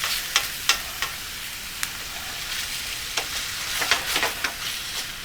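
Meat browning in a frying pan before finishing in the oven, giving a steady low sizzle with scattered sharp pops and scraping stirs throughout.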